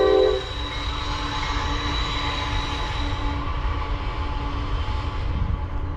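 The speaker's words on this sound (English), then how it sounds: "That's a nice peaceful sound in the morning, a train." A train passing in the morning, heard from a truck stop, a horn blast at the start followed by a steady rumble of rolling cars, moderately loud and continuous.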